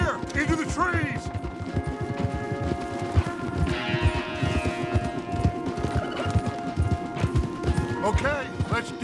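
Hooves of horses galloping hard in Red Dead Redemption 2 pound in a fast, steady clip-clop rhythm close by, with a horse whinnying near the start and end while characters speak over the ride.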